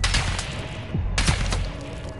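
Sniper rifle gunfire in Call of Duty Modern Warfare II: two sharp, loud cracks about a second apart, each trailing off into echo over a steady low background rumble.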